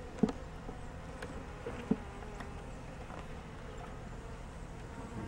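Honeybees hum in a low, steady drone around a hive during a package installation, with faint clicks and bumps nearby and no voices.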